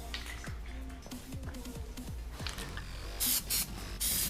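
Aerosol cans of metallic Plasti Dip rubber coating fire off short, loud hissing bursts, three or four sprays in quick succession, close up after some quiet handling noises.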